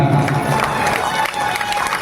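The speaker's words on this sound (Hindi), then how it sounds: "लेकिन ताली बजाओ" An audience at a religious discourse about Krishna and Rukmini's wedding claps together, a dense crowd applause that is loudest at the start and then thins slightly, with a voice speaking over it.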